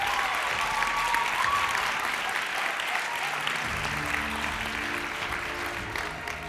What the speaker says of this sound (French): Bravo, applaudissements, applaudissements.